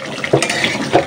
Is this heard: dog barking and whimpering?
no